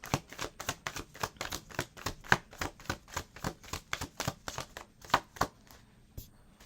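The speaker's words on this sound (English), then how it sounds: "Let me pull two more cards before I get into it." Tarot cards are shuffled and drawn by hand in a quick run of crisp riffling flicks and slaps, close up and fairly quiet, with no voice over them.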